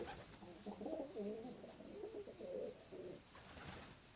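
Pigeons or doves cooing inside a well, a steady series of soft low coos echoing faintly over a hissy background.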